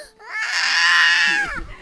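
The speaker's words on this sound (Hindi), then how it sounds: "मम्मी ऊपर आओ, बच्चा रो रहा है आपका।" A baby wails in one long, loud, close cry that swells and then trails off, in a house on a trip to the Khaliya Top base camp.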